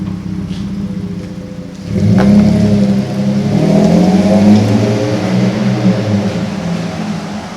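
A Ford F-150 with a 3.3L V6 and an aftermarket exhaust cruises on the highway, its engine rising into a loud, steady droning hum heard from inside the cab.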